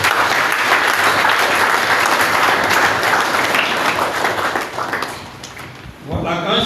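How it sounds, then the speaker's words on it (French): A crowd at a church patronal festival applauds the choirs with loud, dense clapping that fades after about five seconds before a voice begins to speak. "Merci d'applaudir nos chorales."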